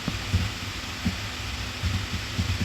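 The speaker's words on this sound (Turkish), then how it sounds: "Bir kalp atışı duydum." A heartbeat in the Minecraft horror mod NoMoon throbs low and steady, several soft double thumps repeating over a constant hissy background with no talking.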